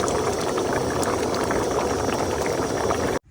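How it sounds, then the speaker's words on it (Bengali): A pot of pabda fish curry in a cumin-paste gravy boils hard, bubbling and gurgling steadily up close before cutting off abruptly at the end. "তরকারি কিন্তু ফুটে গেছে"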